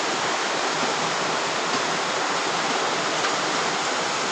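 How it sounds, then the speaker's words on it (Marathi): Heavy monsoon rain pouring down onto a house with a leaking roof, a dense, steady roar of water with no pauses, loud and close throughout. "पाऊस बघा किती मोठा येत आहे आणि बघा घर सगळं गळत आहे"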